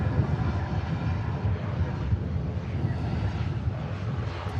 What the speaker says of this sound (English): Aer Lingus ATR coming in from Dublin